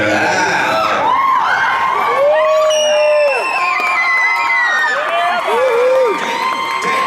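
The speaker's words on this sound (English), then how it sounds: "It's a good crowd. It's an exciting crowd today." A convention audience at Wizard World Raleigh cheers and whoops loudly, with scattered shouts, laughter and a swelling roar from a large crowd close by.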